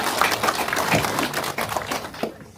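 Audience applause at a city council member's report meeting in Busan, a brief burst of dense clapping that tapers off.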